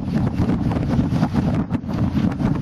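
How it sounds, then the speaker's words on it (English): Strong wind buffets the microphone with a constant low roar and gusty rumbling, no voices present, in the Les Cheneaux Islands. "It is windy though"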